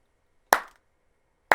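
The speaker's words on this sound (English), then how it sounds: "Oh, please let this be just a big series of slow clapping." Two sharp, isolated hand claps about a second apart in a video game, each ringing briefly before fading, with silence between them.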